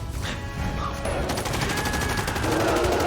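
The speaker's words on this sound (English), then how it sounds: "Love that gunshot sound." Gunfire from the 2009 film Avatar plays as a dense burst of rapid shots and crashing impacts, loud and sustained, with rattling bursts building toward the end.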